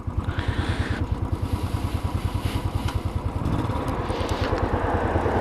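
A 2019 Royal Enfield Classic Bullet 500 trials/scrambler motorcycle engine runs close by with a loud, steady, rapid thumping beat that swells slightly toward the end, with no talking.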